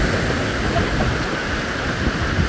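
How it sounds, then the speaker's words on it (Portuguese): Sea waves break against the base of coastal cliffs at Prado, Bahia, making a continuous broadband roar and wash with no distinct individual breakers. "Ó, a água do mar bate aqui."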